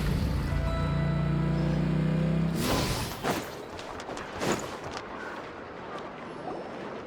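Boat engines in the Genshin Impact video game rev with a steady, droning hum that cuts off after a few seconds, followed by a wash of water and wind noise.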